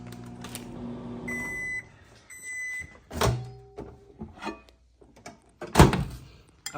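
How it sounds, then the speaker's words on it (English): Microwave oven used for melting pink chocolate: a low steady hum with a few beeps, then door thunks and handling clatter, close and fairly loud, with no talk. "Put it right in the microwave."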